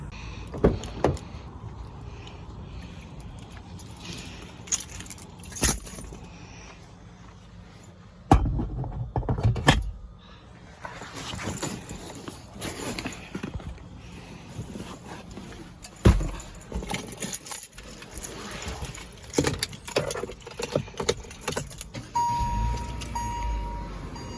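Someone climbs into a car, with several loud door thumps and clunks, rustling, and keys and handling noises spread across the stretch, close to the recorder and with no talking.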